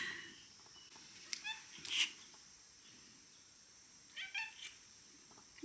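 Cat stuck on a narrow ledge indoors, giving a few short, faint meows against a quiet room hum.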